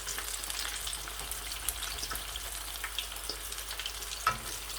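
Chicken wing sticks frying in hot oil over a lowered flame, a steady dense crackling sizzle with scattered pops and one sharper spit near the end, no voices.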